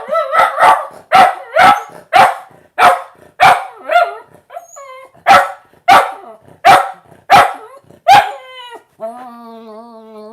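A dog named Murphy barking at someone passing the door, about a dozen loud, close barks in an uneven run, ending in high whimpering whines.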